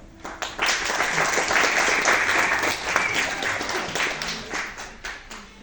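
A concert audience at a medieval Spanish music performance applauds, a dense steady wash of many hands clapping that swells quickly, holds for several seconds, then thins out with scattered claps.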